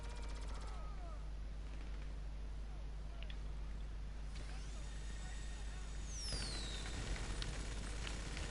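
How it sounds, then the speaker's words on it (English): Fireworks fired at people in GTA 5 burst and crackle through a steady wash of game noise, with rising whistles near the end and people talking faintly underneath. "You really just fire fireworks at them."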